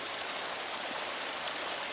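River water flowing steadily in the Green Hell VR jungle, a continuous even rush of running water like a stream, close and fairly loud throughout with no talk.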